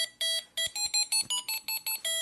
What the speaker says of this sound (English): And you see the alarm is engaged.